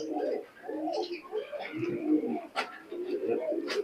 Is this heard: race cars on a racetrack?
no